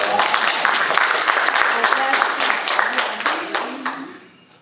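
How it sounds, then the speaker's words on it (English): Audience applause at a community workshop, a burst of clapping from a small crowd that starts strong and thins out toward the end, fading to near quiet. "Give her a round of applause."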